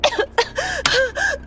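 A woman in a dramatized horror story about a last metro train makes a few sharp, loud coughs and gasps in a broken rhythm. Each is close and choked, with no other voices.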